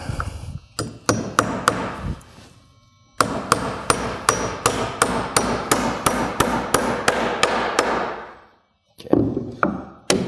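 Hammer driving nails into wall framing studs, a rapid series of sharp, loud strikes in several bursts with brief pauses between them and no voices.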